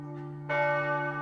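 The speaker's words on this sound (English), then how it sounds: "this bell, it's a single bell. Right. And it's clearly bigger than what we heard before" A single large church bell rings in its bell tower and is heard from the base of the tower: a strong, sustained metallic strike with a rich humming tone that swells partway through and lingers.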